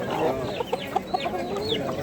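Chickens and roosters at a busy poultry market in Kırıkkale give a stream of close, overlapping clucks and short squawks against a dense, noisy background.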